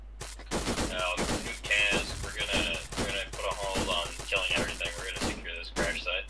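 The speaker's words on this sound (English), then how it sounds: "I can hear the gunshots, yeah." Bursts of Arma 3 gunfire crack and pop in irregular volleys, mixed with voices talking over the action.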